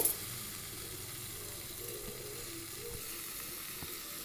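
Okra simmering in yogurt in a covered pan over a low flame, giving a faint, steady sizzle and bubbling hiss with a few small clinks.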